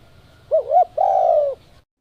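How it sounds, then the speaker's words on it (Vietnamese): Spotted dove cooing, played as a lure call from a phone: a clear, close two-part coo, a wavering short note followed by a longer sustained one, then silence. "Tiếng chim mồi trong điện thoại gáy lên đều đều"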